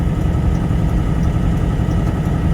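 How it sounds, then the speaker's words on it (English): A truck's engine brake rumbles steadily with a deep, continuous low growl on an icy road, loud and close, with no voices. "Engine brake is on, you can probably hear it."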